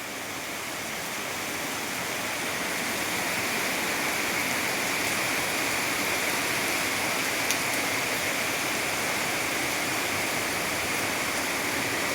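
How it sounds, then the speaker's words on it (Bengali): Heavy rain pours outside a two-storey house, heard from indoors as a dense, unbroken hiss and roar that holds steady and fairly loud the whole time, with no talking. "ভীষণ পরিমাণে বৃষ্টি হচ্ছে বাইরে।"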